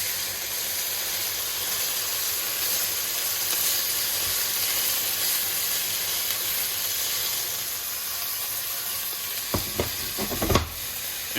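Liver slices sizzle steadily in a hot pan for fegato alla veneziana, a constant close frying hiss, with a few brief clinks and scrapes near the end as the pieces are handled.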